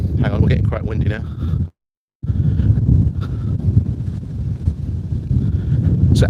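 Gusty wind buffets the microphone with low rumbling noise under a person talking, broken by a short moment of silence.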